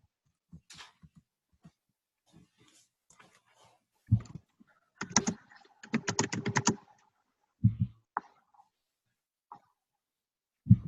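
Computer keyboard being typed on, scattered soft key taps that cluster into a few louder rapid bursts of clicking, with quiet gaps in between.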